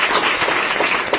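Audience at a meeting breaks into loud, dense applause, many hands clapping together in a continuous burst close by.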